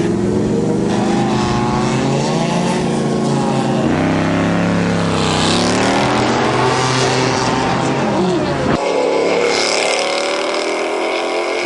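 VW bus drag racing against a supercharged Rover V8 fastback at Bug Jam, engines roaring loudly and continuously, pitch rising with acceleration, then a sudden shift to a different engine tone near the end, with no voices.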